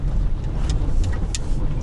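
A Toyota Noah minivan fitted with a defective salvaged automatic transmission rolls forward, giving a low, steady cabin rumble with a few faint clicks and knocks over it.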